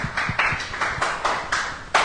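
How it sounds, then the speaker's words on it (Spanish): Hands clapping in a church congregation, a sparse, slightly uneven run of claps rising and fading in a steady rhythm, fairly close and alone without talk. "Un aplauso para el Señor."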